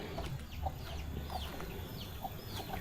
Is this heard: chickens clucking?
yes